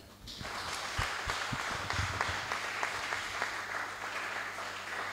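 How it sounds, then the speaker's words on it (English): A congregation applauding mothers standing up during a church service, a sustained wash of clapping from many hands that starts abruptly and fills the room evenly throughout, with no voices over it. "Can we all clap for them?"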